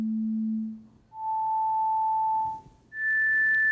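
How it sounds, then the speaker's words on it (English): Three individual pure sine tones from a 1997 hearing science demonstration, played one after another with short gaps: a low steady tone, then a mid tone, then a higher tone, each clean, sustained and alone. "now see what happens when we play individual tones"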